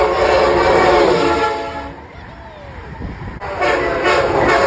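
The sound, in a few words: train air horn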